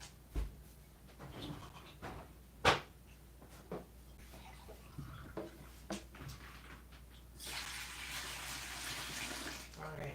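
A kitchen tap runs water into a dog's water bowl, starting faintly and swelling into a steady hiss near the end, with scattered knocks and clatter and someone talking beforehand.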